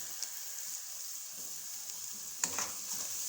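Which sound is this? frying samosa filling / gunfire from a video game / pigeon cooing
frying samosa filling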